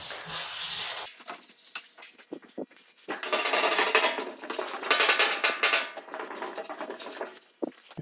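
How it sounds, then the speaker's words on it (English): A rag rubs grease and oil off a bare sheet metal panel during prep for 2K epoxy primer, giving close, scratchy scrubbing strokes that start and stop in uneven bursts, with no talking. "You gotta make sure you keep turning the rag, because otherwise you just keep rubbing the grease into itself."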